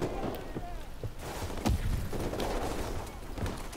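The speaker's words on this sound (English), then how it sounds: "it sounds like they're firing at something" Video game gunfire, a rapid spray of shots with sharp transients over busy background clatter and footsteps, fairly loud and continuous throughout.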